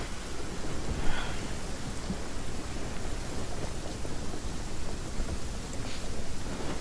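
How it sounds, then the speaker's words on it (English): Rain and thunder in the video game Genshin Impact: a dense, steady hiss of rainfall fills the scene, with a soft rumble of thunder swelling briefly near the start. No voices are heard. "it's raining and there's thunder"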